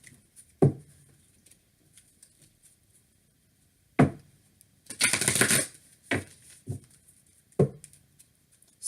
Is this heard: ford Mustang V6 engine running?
no